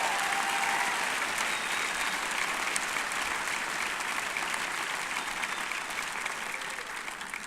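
A large commencement crowd at Western Michigan University applauds, a sustained, even roar of many hands clapping that tapers only slightly toward the end.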